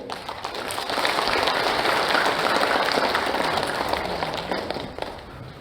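Audience applause welcoming three honorees to the stage at a founding ceremony of a bereaved families' association, steady dense clapping that rises quickly, holds for several seconds, then tapers off at the end.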